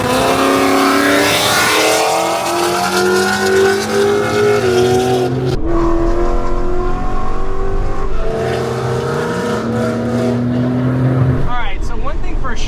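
Loud Ford Mustang GT V8 with a 10-speed automatic revving hard through the city, rising and shifting repeatedly in close, sustained bursts with a brief tire chirp near the end.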